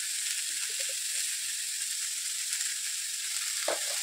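Drumstick vegetable (sajne data) cooking in a pan without oil, giving a steady, close hiss of frying with a few faint stirring clicks and a brief louder scrape near the end.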